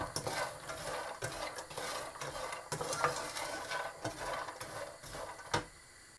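Walnuts roasting in desi ghee in a pan for panjiri, with a steady soft sizzle and repeated scraping stir strokes against the metal, fairly close and with no voices.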